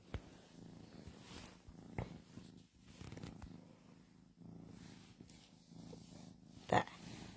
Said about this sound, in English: You gonna stop purring now and listen to the story?